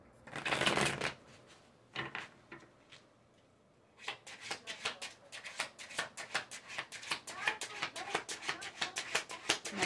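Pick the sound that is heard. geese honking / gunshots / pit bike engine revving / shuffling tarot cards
shuffling tarot cards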